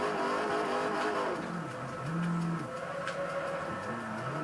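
Car drifting in Forza Horizon 4 on a rear-wheel-drive setup, tapping the e-brake and riding the throttle: steady engine drone that rises and falls in pitch with revs, with a brief tyre screech and no talk.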